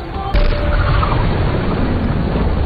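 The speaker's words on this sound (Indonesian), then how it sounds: "Bali meledakkan sebuah granat untuk memisahkan antara gerbong mahkota dengan gerbong prajurit Inggris" A grenade going off in the Indian action film Shamshera to split the crown carriage from the British soldiers' carriage: one sudden heavy boom that holds as a dense rumbling blast for over two seconds.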